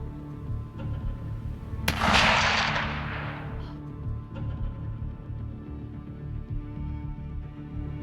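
A single sharp hunting rifle shot cracks out at a deer in open country, followed by a long rolling echo that fades over several seconds against a low background hum.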